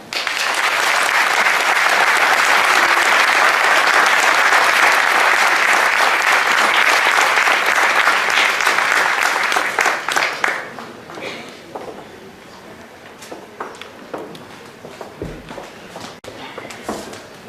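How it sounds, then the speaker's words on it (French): A crowd of spectators applauds loudly and steadily at a Paris tournament event for about ten seconds, then the clapping fades to scattered claps, shuffling and murmur. "Je vous demande de faire un tonnerre d'applaudissements pour l'ancien président de MZ"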